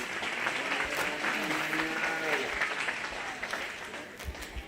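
Audience applause for a young calf exhibitor at a 4-H/FFA cattle show, steady dense clapping from a crowd with voices mixed in underneath.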